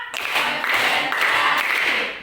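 A classroom of students claps in a counted rhythmic pattern, a fast burst of sharp hand claps in quick pulses, loud and close, filling the room with no talking over it.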